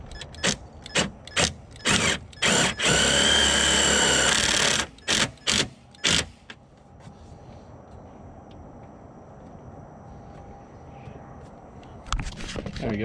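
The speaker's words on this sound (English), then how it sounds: "just try to shove a self-tapper up in there" Power drill driving a self-tapping screw into the body of a BMW E36 sedan fitted with a widebody kit: a run of short, loud whirring bursts with one longer sustained spin, then quiet shop ambience.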